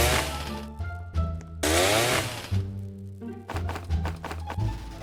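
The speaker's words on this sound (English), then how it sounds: "I've got a chainsaw! Cutting down trees just became way easier and faster." Chainsaw in the 99 Nights in the Forest game cutting down trees, a loud buzzing engine that revs up and drops back in repeated bursts, heard close with no talking.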